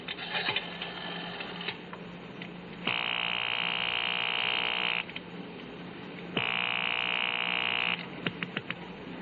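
Telephone ringing on a payphone line at a gas station on the corner, heard as two long, steady electronic ring bursts of about two seconds each with a pause between them, loud and alone.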